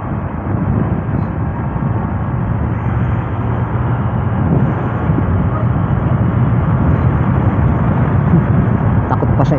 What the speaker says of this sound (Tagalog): kung baga ang ganda pakinggan kapag saktong sakto yung tunog ng big bike eh